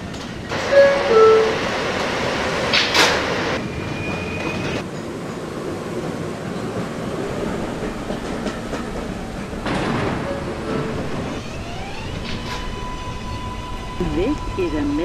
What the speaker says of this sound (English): This is a Middle Village Metropolitan Avenue bound M local train.